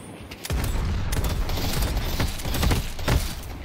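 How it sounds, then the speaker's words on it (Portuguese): Loud, continuous bursts of rapid gunfire with booming impacts in the video game Deadlock, dense and sustained for the whole stretch. "O cara tá metendo tiro em mim aqui."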